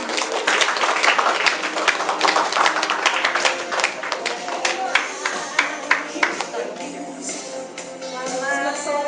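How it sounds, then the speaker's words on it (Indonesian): An audience applauds at a Cosway company event as someone speaker, Ibu Hana, is welcomed, a dense, steady wash of many hands clapping that thins toward the end, with faint tones beneath. "Kita sambut dan beri tepuk tangan yang meriah buat Ibu Hana."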